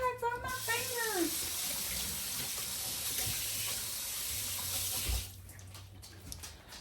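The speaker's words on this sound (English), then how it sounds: "now I gotta wash my hands" Tap water runs steadily for about five seconds while hands are washed in a kitchen sink during bison cottage pie cooking, a broad hissing flow that cuts off abruptly, with a voice talking briefly at the start.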